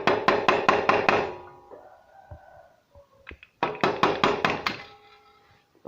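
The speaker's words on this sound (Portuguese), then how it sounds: "Vocês vão bater pro arrebite sair." Rapid bursts of hammer blows on a nail punch driving out a rivet, about five or six quick metallic knocks per burst in two close, loud runs separated by a brief pause with faint clinks.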